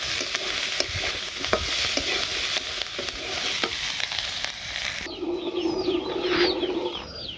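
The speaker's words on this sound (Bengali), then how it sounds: "মাছের সাথে পেঁয়াজও দিয়ে দিলাম, ভাজা ভাজা হয়ে গেছে" Fish and onions fry in a pan with a steady, close sizzle and occasional stirring scrapes, then the sizzle drops back and birds chirp in the background.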